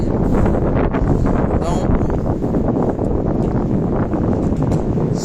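Wind gusting outdoors against the microphone, a steady broadband roar that runs throughout with someone talking over it.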